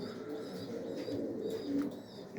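Domestic pigeons, including an old pair of white birds, cooing in a backyard loft at the start of breeding season: soft, low, rolling coos repeating close by over steady background hum, with no talking.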